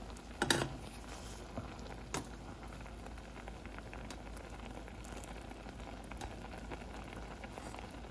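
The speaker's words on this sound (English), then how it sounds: "Okay, it's been boiling for 10 minutes." Mulberry jam bubbling in a pot on the stove, a soft steady patter of popping bubbles with a couple of sharper pops near the start, close and fairly quiet throughout.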